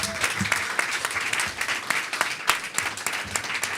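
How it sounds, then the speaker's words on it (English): An audience applauds a guest speaker at a talk on restaurants, farms and the climate, steady close clapping from a modest crowd with a few individual sharp claps standing out, with a faint voice briefly beneath. "Please give him a huge round of applause"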